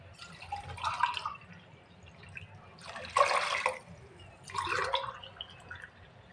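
Water is poured in three separate splashing bursts over rice and black lentils in a pot, each pour a few seconds long and close by, with quiet gaps between.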